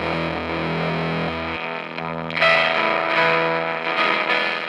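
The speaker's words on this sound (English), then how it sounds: "you can introduce some really raucous kinds of distortion" Harsh, raucous distorted tones drone and shift, breaking into gritty, buzzing feedback that swells louder partway through.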